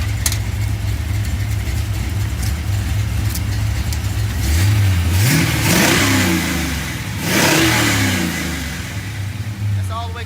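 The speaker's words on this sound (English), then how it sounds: "you guys have not really heard the carburetor, like how good this thing transitions from primary to secondary" A carbureted stock car engine in a scrapyard notchback race build revs from a steady idle up through a smooth primary-to-secondary carburetor transition. The loud, close engine note climbs and sweeps twice, and a voice talks faintly underneath.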